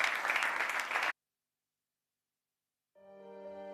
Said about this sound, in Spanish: podéis aplaudir el público que estáis aquí con energía